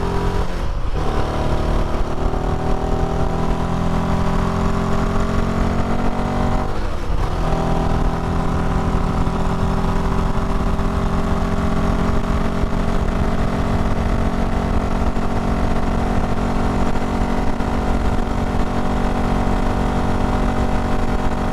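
Royal Enfield Himalayan 450 motorcycle engine at higher riding speed, a loud steady drone with a couple of brief shifts in pitch, heavy and continuous throughout.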